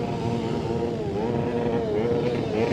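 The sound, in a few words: motorcycle engine being revved at bike night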